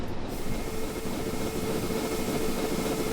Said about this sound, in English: Oh, look, there's a train going the other direction.